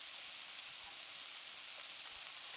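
Mushrooms and onions fry in a pan alongside steak, producing a soft, steady hiss of sizzling that holds without pause across the short stretch.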